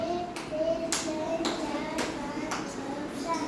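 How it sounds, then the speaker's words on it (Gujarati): Hands clap in a steady, evenly spaced beat, roughly seven claps, mid-distance in a room, with voices talking over the rhythm. "તાળી પાડો"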